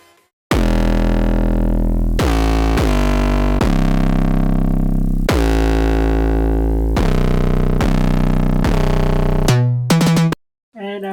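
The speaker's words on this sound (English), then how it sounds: "So all together, the bass layer sounds something like this." Layered synth bass from a remake, loud and full, moving through a sequence of sustained notes with sharp attacks, finishing with a brief choppy stutter and a short gap.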